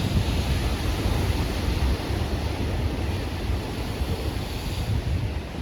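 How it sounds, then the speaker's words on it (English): Ocean tide waves roll in and draw back along the shore, a loud, steady wash of surf mixed with gusty wind rumble, continuous and close, with no voices. "notice the tide coming in and then going out again"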